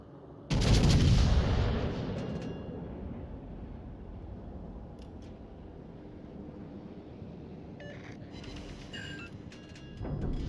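Warship guns fire a salvo in World of Warships Legends, opening with a heavy booming blast that rolls off into a long rumbling tail, followed by fainter distant thuds and another loud report at the close.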